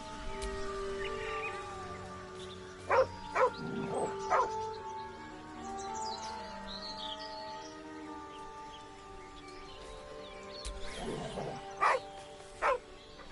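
A dog in the fantasy role-playing game Baldur's Gate 3 gives a few short, sharp yips and barks at intervals over a steady ambient music bed, with a cluster near the start and another near the end.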